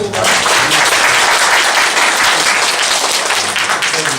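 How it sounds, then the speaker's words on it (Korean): Audience applause fills a lecture hall during a university landscape-architecture special lecture in Suncheon: a dense, steady round of clapping, close and loud, lasting about four seconds without a break. "박수."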